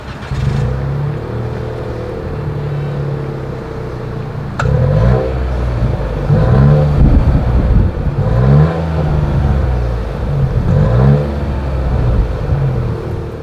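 A 2024 Nissan Rogue's exhaust, steady and fairly loud, with a low engine drone and several rising rev swells that climb and fall back over about thirteen seconds.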